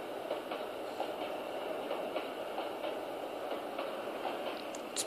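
A long freight train of 73 cars, including a boxcar, rolls along in the Trainz railway simulation game. It makes a faint, steady rumble with regular clickety-clack beats of wheels over rail joints.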